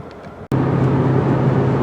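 A 2024 Hyundai Elantra Hybrid cruising on the highway, heard from inside as a steady low road and engine drone with tire hum that begins abruptly after a brief cut, continuous and unvarying, with no talk.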